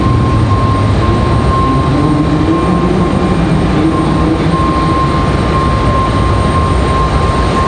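An airliner taxiing on a far south taxiway over a bridge at Raleigh-Durham airport, a loud, steady engine rumble with a constant whine, close and unbroken throughout, with no talking.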